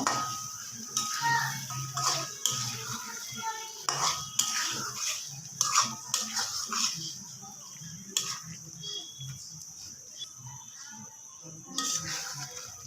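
Pieces of rohu fish tipped into fried spice paste in a metal pan, followed by clattering and stirring against the pan, close and moderately loud with uneven knocks that fade to quieter scraping.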